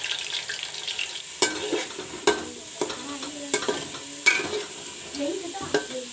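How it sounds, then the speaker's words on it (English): Potatoes fry in oil for soya rice. A soft sizzle runs beneath repeated clinks and knocks of a spatula stirring against the pan. "Potatoes are fried up."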